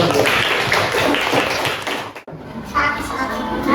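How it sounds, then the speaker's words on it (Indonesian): Group of people clapping together in a classroom during a Quran recitation lesson on Surah Adh-Dhuha, a dense burst of applause lasting about two seconds that stops abruptly, followed by a voice speaking. "Beri tepuk tangan untuk"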